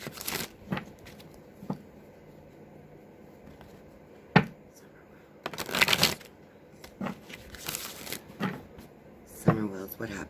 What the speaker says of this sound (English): But first I'm going to shuffle.